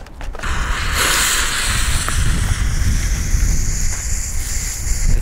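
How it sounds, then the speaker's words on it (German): Wind blows outdoors at a consumer-fireworks test session, gusting into the microphone as a steady, fairly loud rushing roar with low buffeting, and a few faint clicks and hisses mixed in. "Jetzt kommt ein bisschen Wind auf."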